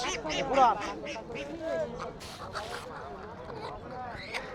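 Domestic desi ducks at a rural riverside market quack in repeated nasal calls close by, mixed with honking and fowl sounds under steady chatter from people nearby.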